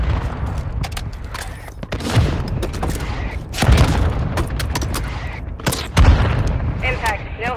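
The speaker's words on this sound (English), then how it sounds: "Mortar strike inbound now." Mortar strike explosions in Call of Duty Warzone Mobile, a series of loud, heavy booms and rumbling blasts mixed with gunfire bursts, with radio-style voice chatter running under them.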